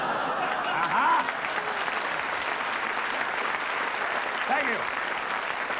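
Audience applause and crowd noise during a televised 1975 comedy magic act, a steady wash of clapping that swells briefly near the start and again later, with a voice speaking over it.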